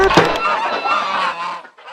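Loud, honking duck quacks fill a courtroom scene in an Indonesian-made video game, a close, nasal cluster of calls that trails off after under two seconds.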